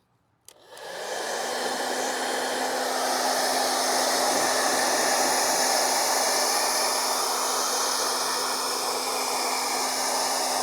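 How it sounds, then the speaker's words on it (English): A hairdryer switches on with a click and runs as a steady, loud, unbroken whoosh with a faint hum, blowing hot air onto a car bumper to soften it, with no one speaking. "I'm going to try to use a hairdryer."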